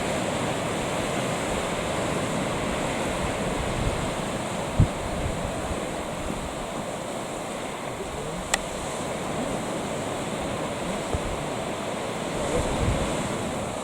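Sea waves wash steadily against the shore below a coastal path, a continuous broadband roar of surf with some wind buffeting the microphone. Faint clicks and bumps sit on top, and no one speaks.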